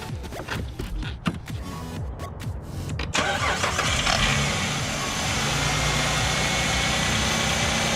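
A Jeep Commander 4x4 cranks with a few clicks and turnovers, then its engine catches and settles into a steady mid-pitched idle, close and moderately loud, with no speech.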